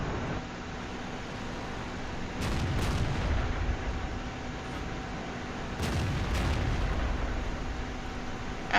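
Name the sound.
artillery fire in video game World of Tanks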